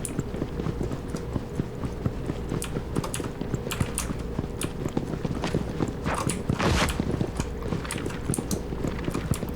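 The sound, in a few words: footsteps of players moving around in the video game Hyperscape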